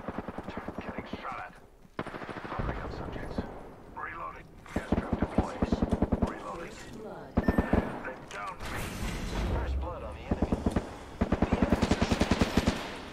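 Rapid bursts of gunfire crackle through an Apex Legends firefight, with repeated machine-gun volleys and scattered single shots, loud and close, while voices talk over parts of the action.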